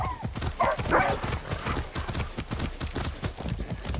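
Steady clip-clop of horse hooves trotting in Far Cry 6 at a regular rhythm, close and fairly loud, with a brief whinny-like tone near the start.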